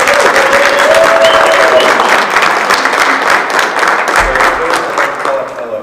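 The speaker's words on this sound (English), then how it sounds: "we owe them a round of applause" A round of applause breaks out among attendees at a board of education meeting, dense steady clapping that holds strong and then gradually thins toward the end, with faint murmurs underneath.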